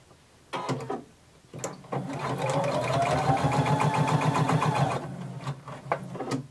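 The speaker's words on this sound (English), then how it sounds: "And we're going to sew down and across." A sewing machine stitches a seam down and across a garment near a zipper, running in a steady loud whir for about three seconds between short bursts and pauses, with no talk.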